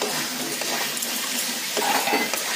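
Potatoes being stir-fried in a spiced masala in a pan, giving a steady soft sizzle with light scraping and stirring scrapes throughout, close and moderately loud, with no talking.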